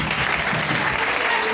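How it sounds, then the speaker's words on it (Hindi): Loud, dense applause from a gathered audience, a continuous close wash of many people clapping at once with no pauses. "अब मैं चाहूंगा कि आप लोग अपने लिए ही जोरदार तालियां बजाएं"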